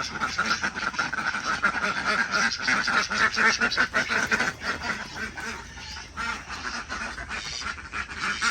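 A flock of ducks on a duck farm quacks continuously and noisily at close range, overlapping calls forming a constant chattering racket.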